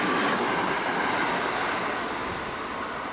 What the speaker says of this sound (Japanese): こんな感じで急行電車が走り抜けていきました。